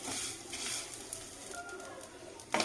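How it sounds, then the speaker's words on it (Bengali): Soft, steady sizzling of vermicelli frying in ghee, fairly quiet, with a brief clatter of a utensil at the very end. "এগুলো একটু ভালো করে ফ্রাই করে নেব"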